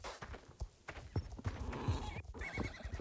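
In the horse-riding video game Star Stable Online, a foal neighs and whinnies over a brisk clip-clop of hooves. The sounds are close and clear, with faint talk mixed in.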